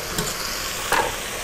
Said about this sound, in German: Brutzelt so richtig schön.